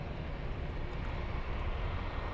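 A Lufthansa airliner bound for Los Angeles departs Munich airport, a faint, steady jet roar heard from a distance with no voices.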